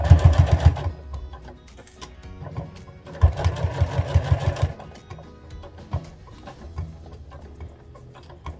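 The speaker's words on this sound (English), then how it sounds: "So I'm sewing along the bottom of the band right now," A domestic sewing machine stitches the band of bear overalls in short, rapid bursts of rhythmic thumping, separated by pauses filled with light clicks and handling noises, close up and without speech.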